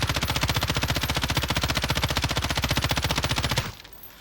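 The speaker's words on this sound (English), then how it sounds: "You want to shoot a wall and check out the recoil pattern of your weapon." Rapid sustained automatic fire from an M13 rifle in Call of Duty, shots hammering a wall in a steady fast rhythm for several seconds, loud and close, then cutting off abruptly into quiet.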